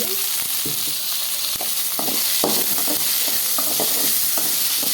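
Tomato pieces fry and sizzle steadily in a pan for a mango curry, with a continuous hiss broken by repeated stirring scrapes and clinks up close.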